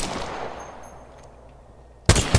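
Single-shot assault rifle firing in the Apex Legends video game: one sharp, loud report bursts in near the end, with a second quick crack right after it, following a quiet stretch.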